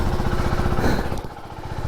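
A KTM Duke 390 motorcycle engine idles after a cold start, a close, steady rapid thrum that dips slightly in level partway through.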